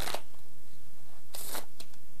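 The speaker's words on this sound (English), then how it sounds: "if you do a normal riffle shuffle, the cards drop, and you let the last few cards drop on top" A riffle shuffle of playing cards gives two quick, crisp bursts of fluttering card clicks, close and short, with quiet pauses between them.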